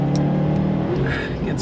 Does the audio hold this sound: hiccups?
no